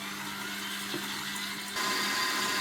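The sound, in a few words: electric mixer beating eggs and sugar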